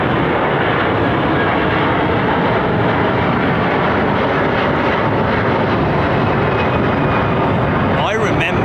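An airliner passing at London Heathrow Airport, a loud sustained roar of engines filling the whole stretch, with people talking over it.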